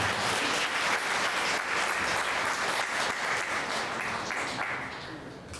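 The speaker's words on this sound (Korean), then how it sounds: "큰 박수로 맞아주시길 바랍니다" An audience at an academy information session gives dense, sustained applause welcoming the next speaker, a steady roar of many hands that tapers off toward the end.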